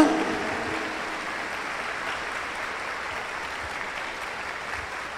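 A church congregation at an Epiphany Mass applauds in a dense, steady wash of clapping that fades slightly after a sharp start, with no one speaking over it.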